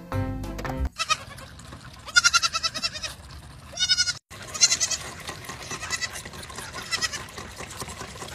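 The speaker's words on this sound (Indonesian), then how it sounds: "Wow, kambing." A goat bleats several times in wavering, nasal cries, with short bursts and pauses between calls and a brief tonal sound at the start.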